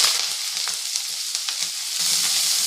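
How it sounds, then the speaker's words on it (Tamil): Half a spoon of mustard seeds tempering in hot coconut oil for a banana-stem kootu gives a steady, close sizzle peppered with small crackles and pops, with no talk. "தேங்காய் எண்ணெய் சூடானது 1/2 ஸ்பூன் கடுகு ஊற்றிக்கோங்க."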